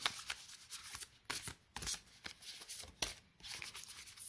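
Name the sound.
shuffling tarot cards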